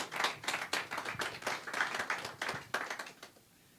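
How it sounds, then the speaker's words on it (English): Applause from a small audience at a community gathering, a few hands clapping near and distinct in a steady patter for several seconds before stopping. "let's give a round of applause to the Gerimas for having this space"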